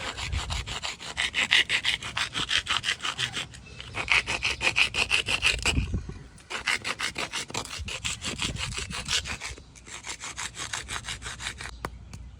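Antler being abraded and rounded into a flintknapping tool gives steady, rhythmic rasping strokes in several bursts, close and clear, with no talking.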